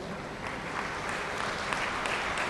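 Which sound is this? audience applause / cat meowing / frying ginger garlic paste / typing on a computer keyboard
audience applause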